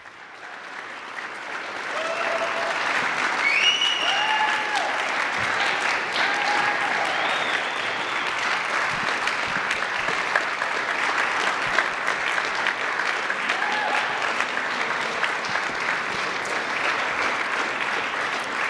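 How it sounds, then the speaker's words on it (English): Sustained audience applause for presenters at the Ripple Effect 6 event, starting from near silence, then a steady dense roar of many hands clapping for most of the span, with faint voices and whoops scattered through. "Give them a round of applause"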